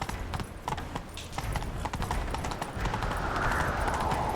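Horse hooves clatter in a rapid galloping rhythm in the video game The Witcher 3: Wild Hunt, close and steady, with a faint rushing noise building underneath toward the end.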